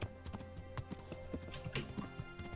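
Horse hooves clip-clop in Kingdom Come Deliverance, with a steady run of light, close hoof taps over a quiet background and no speech.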